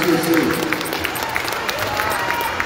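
An audience applauds Grace Fiaseu at an ILH fiafia night taualuga, with scattered claps and crowd murmur continuing under a voice.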